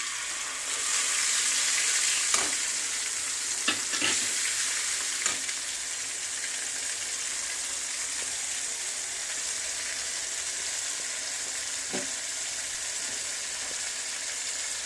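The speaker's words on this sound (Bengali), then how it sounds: "এই তেলের মধ্যেই আমি আদা, টমেটো আর কাঁচা লঙ্কার যে পেস্টটা বানিয়ে নিয়েছিলাম সেইটাই দিয়ে দিচ্ছি" Paste of ginger, tomato and green chilli frying in hot oil for a vegetarian potol paneer, giving a steady close sizzle with a few sharp spoon clicks and scrapes early on and no talking.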